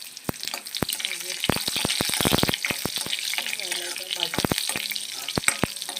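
A chili tempering for lemon rice sizzles hard in hot oil, with a dense frying hiss and rapid bursts of sharp crackling pops that come in clusters.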